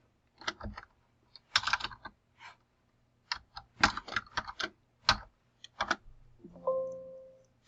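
Bursts of computer keyboard typing, clusters of quick key clicks separated by short pauses, close and fairly quiet, ending with a brief tonal beep-like sound.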